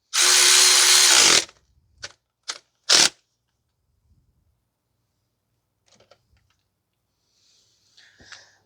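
A power tool on a 2010 Toyota Corolla 1.8 tightens a 12 mm pivot bolt in one loud, close whir of about a second, followed by three short bursts and then near silence.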